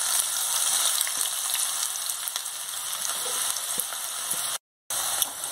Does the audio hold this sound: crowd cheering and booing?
no